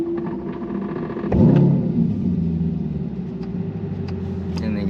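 A 1500 hp twin-turbo C8 Corvette building revs from inside the cabin, a loud low engine drone that surges sharply after a second and then holds a steady rumbling pull.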